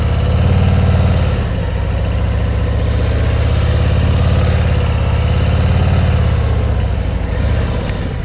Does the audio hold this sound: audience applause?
no